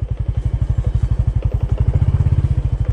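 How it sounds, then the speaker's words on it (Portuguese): Motorcycle engine idling close by, a loud, steady, rapid thumping pulse that holds an even rhythm throughout, with no voices over it. "Minha moto tá até estranha, meu."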